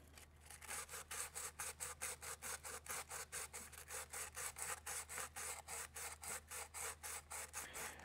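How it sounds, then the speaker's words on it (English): Hand sanding of a carbon bike frame around a damaged integrated headset with 40 grit sandpaper, as a steady run of quick back-and-forth rasping strokes, close and even, under a low constant hum. "So we're going to sand this out and rough it up."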